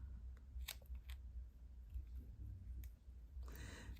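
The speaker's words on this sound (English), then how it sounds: "I take my scissors and I just trim them a little bit more." Scissors snip through the edges of rubber stamps in a few quiet, separate cuts, with a soft rustle of handling between them and no talking.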